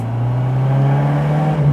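A 1987 Alfa Romeo Spider Series 3 engine revs up steadily, a loud sustained low drone whose pitch climbs slightly and holds, with no voices.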